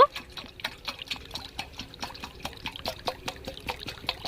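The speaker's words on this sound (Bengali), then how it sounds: "একটা বোতলের মাপ করে আমি জলটা নিয়ে নিচ্ছি তো এখানে আমি সাতশো গ্রাম জল নেব" Water pours from a bottle while being measured for homemade mishti doi, a close, steady trickle with rapid glugging pulses and no talking.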